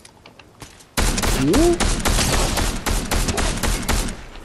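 Dense bursts of rapid gunfire from enemies in a video game erupt suddenly after a quiet start and continue loudly and steadily, with a brief spoken remark over the shooting.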